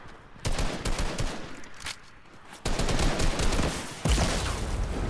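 Video game gunfire in a match against many bots: dense, loud bursts of rapid automatic shots in three sustained volleys, close and continuous, with no talking.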